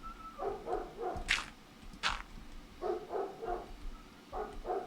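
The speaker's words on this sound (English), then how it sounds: "my dogs are barking." Pet dogs bark indoors at something outside a window, short rapid bursts of barks in clusters, moderately close, with a couple of sharp yips between them.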